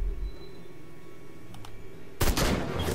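Gunfire in Sangfroid: A Tale of Werewolves, a video game, with a sharp burst of shots near the end that follows a stretch of quiet ambience. No one talks.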